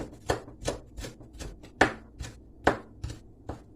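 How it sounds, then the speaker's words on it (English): A knife slices through ripe plantain on a board, about ten sharp crisp chops at an uneven rhythm, close and clear with no talking. "So I don't need to go through the problem of blending or pounding, so I will just slice it."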